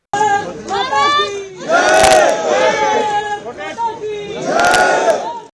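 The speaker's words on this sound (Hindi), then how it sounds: "देशभक्ति के नारे गूंजने लगे।" A large crowd chants patriotic slogans at the funeral procession of General Bipin Rawat, loud rhythmic massed shouting in waves with sharp bursts and crowd noise close by.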